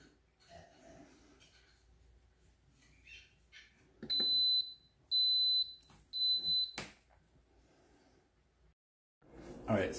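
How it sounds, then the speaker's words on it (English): Three sharp, high electronic beeps from an Instant Pot pressure cooker timer sound in a row, each about half a second long, in a quiet room with faint background movement. "timer went off"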